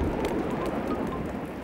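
Cartoon rain effect from a children's animated series: a steady, even hiss of falling rain, close and continuous throughout, with no voices.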